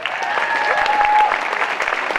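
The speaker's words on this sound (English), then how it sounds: "one more round of applause." Audience at a school student center grand opening applauding for a chamber choir, a dense, steady burst of clapping throughout, fairly loud with no talk over it.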